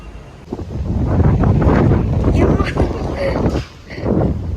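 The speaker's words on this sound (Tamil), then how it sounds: "ஆடி மாதம் காற்று அவ்வளோ ஹெவியாக அடிக்குது" Heavy wind buffeting the microphone in loud, rumbling gusts, with a voice partly audible beneath the roar.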